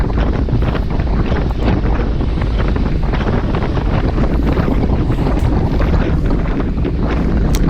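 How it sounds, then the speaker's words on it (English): Wind blasting the microphone during a group bicycle ride on a country road, a loud constant roar of gusts with no pauses and no other clear sound. "The wind's picking up."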